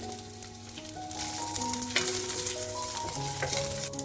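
Onions and green chillies frying in a pan for Odia-style baby corn chilli, a steady close sizzle running throughout with no voices, while faint tonal music plays underneath.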